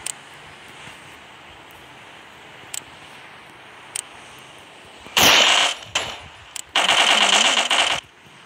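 Faint isolated shots pop at first, then two long, loud bursts of rapid automatic machine gun fire from the video game Danger Close rattle out over a low steady background hiss.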